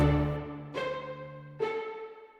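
Pizzicato strings layered with staccato in a beat, heard alone as three clear, close note attacks roughly evenly spaced, each ringing out with rich sustained harmonics before the next lands, with no talking.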